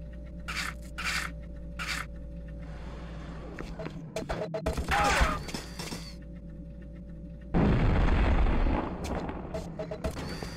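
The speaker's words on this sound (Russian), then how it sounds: "Гранату туда киданем." Grenade blast in the video game The Thing, a rough booming burst with scraping debris midway, followed later by a second louder explosive rumble that sustains for a few seconds amid game ambience.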